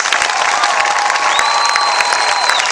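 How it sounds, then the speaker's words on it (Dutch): Applause from a theatre audience after an amateur staging of Robin Hood forms a thick, loud wall of clapping with a few cheers, and a sustained tone runs faintly beneath it. "Graag ook uw applaus voor iedereen die deze voorstelling mogelijk maakte"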